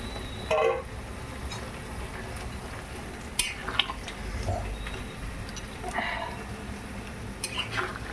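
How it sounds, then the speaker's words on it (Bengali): Tengra fish going into a pot for a tomato-and-potato fish curry, with a steady sizzle of frying and a few knocks and scrapes of stirring against the pan, no talking. "এখন দিয়ে দেব মাছগুলো।"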